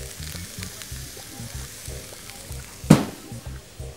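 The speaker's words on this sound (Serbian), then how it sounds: "I u tiganj dok se potpuno ne proprži." Beefsteak frying in an oiled pan, a continuous close sizzle with faint rhythmic clatter underneath and one sharp louder knock near the end.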